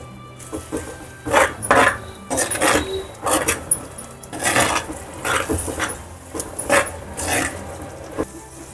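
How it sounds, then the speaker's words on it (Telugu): A spoon stirring mutton curry masala with ginger-garlic paste over high flame in a clay pot, with repeated scraping and knocking strokes at an uneven rhythm, close and fairly loud. "పచ్చివాసన పోయే వరకు అంటుకుండా తిప్పుకుంటూ ఉందాము"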